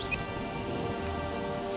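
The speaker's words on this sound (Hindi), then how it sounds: "और ठीक 3 दिन बाद घनघोर बारिश हुई" Heavy rain in a Hindi cartoon moral story comes through as a dense, continuous hiss of falling water at an even loudness, with no talk over it.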